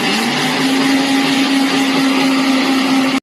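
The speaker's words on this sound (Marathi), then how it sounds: "पहिले तीळ वाटून घ्यायचे" An electric mixer grinder whirs loudly and steadily while grinding sesame seeds, its motor holding one continuous hum for about three seconds before cutting off abruptly, with no voices.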